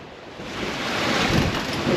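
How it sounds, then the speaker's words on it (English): Wind and waves while sailing in the Irish Sea: a broad, hissing rush of water against the hull mixed with gusting wind buffeting the microphone, swelling gradually louder over a couple of seconds. "the wind picked up."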